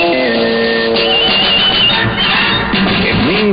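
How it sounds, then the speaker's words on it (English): CBS Radio Sports signature sound: a short broadcast sting of bright tones and swept effects over a busy mix, loud and close, lasting a few seconds with no talking. "Our sports signature sounds like this."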